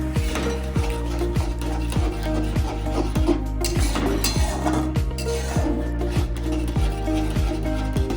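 A utensil stirs beaten egg in a pan while cooking egg bhujia, scraping in a steady, regular rhythm of repeated strokes over a constant hum, loud and close, with no talking.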